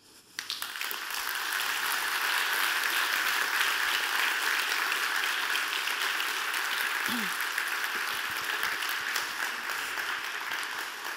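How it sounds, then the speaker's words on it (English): A conference audience breaks into applause after a leadership keynote, clapping starting abruptly and holding as a dense, steady roar for about ten seconds, with a brief voice heard partway through. "You can still applaud her."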